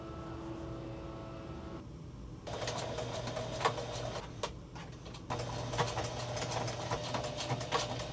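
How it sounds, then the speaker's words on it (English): A sewing machine stitches brand tags onto upcycled clothing, running in close bursts of rapid mechanical whirring and clatter with short pauses between runs. "let's get into sewing our tags on."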